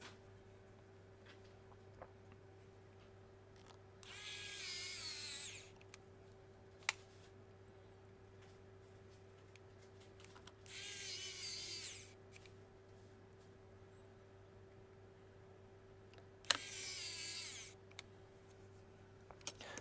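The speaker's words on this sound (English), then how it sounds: "We're going to use power tools." A power tool whirs in three separate short bursts of about two seconds each during an electronics repair, fairly faint over a constant low hum, with small clicks and taps between bursts and no talk.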